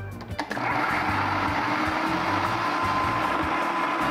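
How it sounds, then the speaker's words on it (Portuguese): A close, loud electric mixer beats sugar into butter for butter cookie dough. After a brief start it settles into a steady high whir that runs to the end, with no speech. "agora nós vamos fazer um barulhinho, que eu quero incorporar bem esse açúcar na manteiga"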